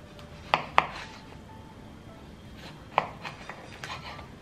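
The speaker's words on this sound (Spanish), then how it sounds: "vamos a continuar quitándoles el pedúnculo y troceándolos para que después sea más fácil de batir." A knife cuts pear tomatoes on a board with a few sharp, isolated knocks, two close together and then another after a pause, followed by softer scattered taps in a quiet room.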